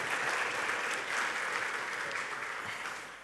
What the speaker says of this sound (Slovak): takže ešte by som poprosil raz potlesk, že privítajme ho